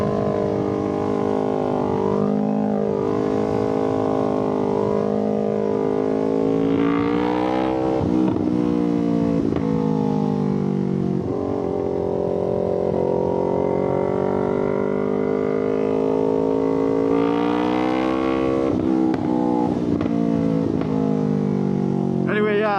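A motorcycle fitted with a new KO Lightning exhaust drones steadily while riding along on a fall ride, its engine note rising and falling through gear changes, close and continuous from start to finish.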